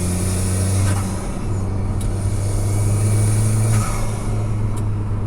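Turbocharged engine of an Alfa Romeo 4C Spider pulling under acceleration, a steady droning hum with a low tonal note that holds, dips briefly near the end and carries on, heard from inside the car.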